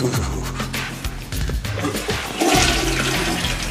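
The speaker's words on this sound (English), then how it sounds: "When you flush the toilet, guess what happens?" A household toilet flushing up close, a loud rushing swirl of water that surges again partway through as the bowl drains and refills.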